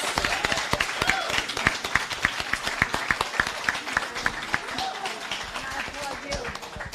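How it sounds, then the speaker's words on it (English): Audience applause at a San Francisco seniors roundtable honoring Speaker Emerita Pelosi, a moderate crowd of clapping with distinct individual claps standing out in a fairly quick rhythm, continuing steadily without pause. "Let's give a big round of applause to our Speaker Emeritus."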